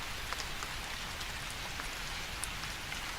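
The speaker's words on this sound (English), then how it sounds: "the rain outside picked up once more, its rhythm more frantic than before" Steady rain falls outside in an even, hissing wash, with scattered louder drops tapping a surface now and then. It is soft and continuous, and no voices are heard.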